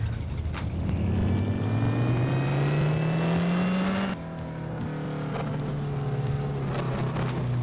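A supercharged drag racing car revs hard on a dyno at a no-limit drag racing event, its loud, continuous engine note climbing steadily before dipping briefly and holding at a high roar.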